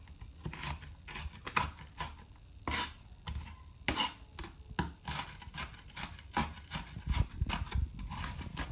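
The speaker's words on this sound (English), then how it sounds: "We want them diced up into small cubes." A knife dices potatoes into small cubes on a cutting board, giving quiet, irregular chopping taps and scraping rubs at close range, repeated steadily throughout.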